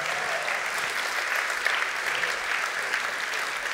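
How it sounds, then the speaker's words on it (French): Warm, sustained applause from a sizable crowd at an award ceremony during a congress, steady and dense throughout with no voices standing out. "on peut effectivement l'applaudir chaleureusement"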